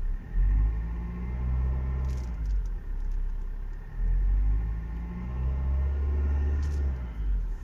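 Tata Harrier SUV engine held at about 2000 RPM, a steady deep rumble and hum from close by with slow swells in loudness, no voices.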